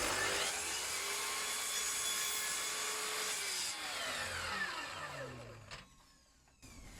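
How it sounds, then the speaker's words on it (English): A power saw cuts mitres in wooden beading, a loud, close, high whine that holds steady, then drops in pitch as the blade winds down and stops near the end. "Right, so I'm cutting all the beading. I'm going to cut this mitre on this end first."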